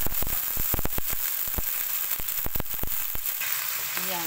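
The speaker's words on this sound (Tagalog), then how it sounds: "luto na yung sa sibuyas at sa kabawang, ilagay natin yung sardinas, sardines." Sardines sizzle and fry in a pan with already sautéed onion and garlic, a steady close crackle broken by repeated sharp spatula scrapes and clacks, with no talking.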